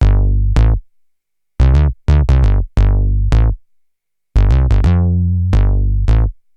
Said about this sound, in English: This huge squelchy bass patch was inspired by 70s and 80s P-Funk